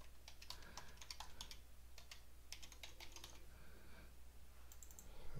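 Quiet, rapid typing on a computer keyboard as a backup command is entered, with irregular bursts of clicking keystrokes and short pauses over a steady low hum.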